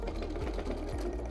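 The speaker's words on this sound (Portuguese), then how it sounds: "Ponta com ponta e vamos passar a costura aqui." A sewing machine stitches felt for a lingerie holder, a steady rapid mechanical whir with rhythmic needle clatter running continuously at close range.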